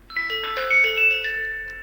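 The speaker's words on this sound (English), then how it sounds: "And chime sound number 3." Aosu video doorbell homebase chime, setting number 3: a short melodic electronic jingle of several overlapping bell-like notes stepping quickly in pitch, fairly quiet and alone.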